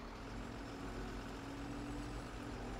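A semi-truck engine in the Farming Simulator 17 video game, a Kentucky farm truck with a souped-up motor, drones steadily and loudly with a low rumble and no talk.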